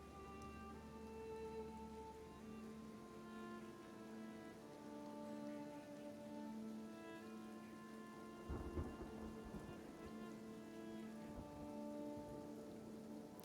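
Acid rain pours in the video game Kenshi, a steady hiss at low level, while thunder rumbles in a broad roll partway through under a sustained tonal music bed.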